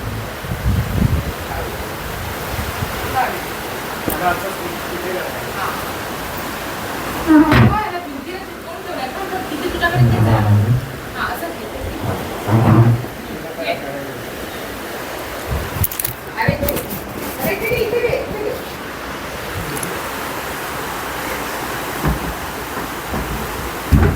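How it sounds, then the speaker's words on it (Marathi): Rain falls outside an open window of a home, a steady soft patter with occasional low rumbles, heard under people chatting nearby. "लगेच पाऊस पण आला"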